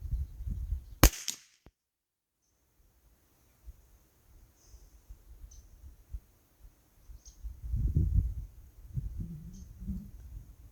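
A single sharp pistol shot of SK Pistol Match ammunition cracks loudly at an outdoor range, followed by a quiet pause, faint ambient sounds and low rustling handling noises.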